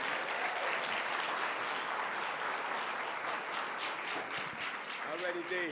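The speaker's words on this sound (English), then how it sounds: "A round of applause for our presenters." Audience applause for presenters at a plenary session, a steady wash of clapping from a crowd with voices talking over it near the end.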